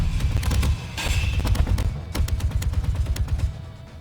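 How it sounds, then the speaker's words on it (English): Rapid bursts of gunfire in the video game Space Engineers crackle repeatedly, some single shots and some clustered volleys, loud and close with a dull thudding undertone. "I hear gunshots."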